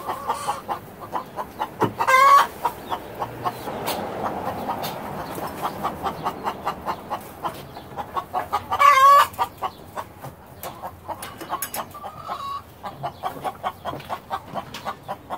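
Chickens cluck steadily in a rapid, repeating rhythm close by, with a couple of louder, longer squawks standing out above the flock.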